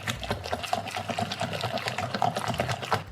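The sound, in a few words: stirring batter with egg mixed in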